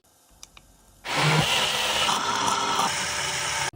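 A blender switches on after a second of quiet and grinds fruit into juice, a loud steady whirring roar that holds for over two seconds before cutting off abruptly.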